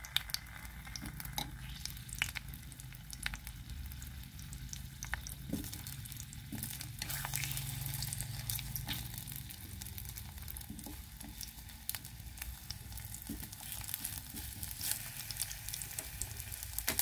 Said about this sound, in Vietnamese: Rồi giờ để chuối vô để mình áp sơ nha